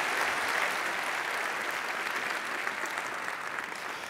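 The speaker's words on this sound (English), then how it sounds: "Huge round of applause, ladies and gentlemen." An audience at a conference closing plenary session gives a steady round of applause, with dense, even clapping from a large hall that holds at a constant level throughout and has no voices over it.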